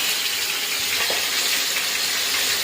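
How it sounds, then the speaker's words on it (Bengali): A catla fish head fries in hot oil with a loud, dense, unbroken sizzle and crackle that fills the whole stretch, close and even in level. "কাতলা মাছের মাথা আগে ভেজে নিচ্ছি"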